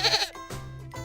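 A young kid goat gives a high, quavering bleat up close, then two softer follow-up bleats in quick succession.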